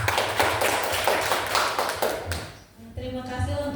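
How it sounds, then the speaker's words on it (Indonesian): Applause from an audience at a training orientation presentation, steady dense clapping near and fairly loud that thins and dips briefly before rising again, with voices mixed in at the end. "beri aplaus untuk Mbak Sela."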